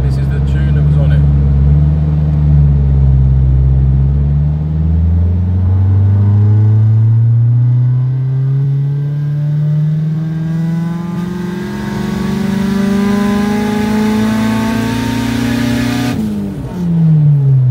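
A car engine on its stock factory tune with a standard MAP sensor revs up loud and close, pitch climbing steadily over about sixteen seconds before dropping off, with a steady rumble underneath.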